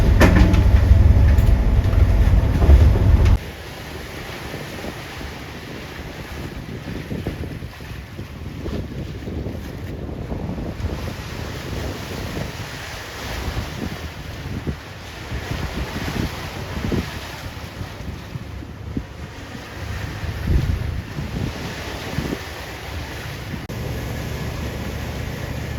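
Wind and choppy wind-driven waves on Georgian Bay heard from aboard a moving yacht, with gusty wind buffeting the microphone and a constant rush of water against the hull; a loud burst at the start drops to a steady roar.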